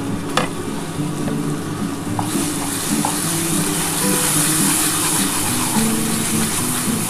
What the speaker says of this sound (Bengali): এবার ভালো করে মশলাটা একটু কষিয়ে নিই